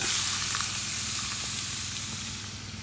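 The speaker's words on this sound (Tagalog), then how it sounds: "Ilagay na natin yung pork, guys." Pork hitting a hot pan of garlic and onions during caldereta cooking gives off a loud, steady sizzle and hiss. It carries on unbroken and eases off slightly toward the end, with no talking.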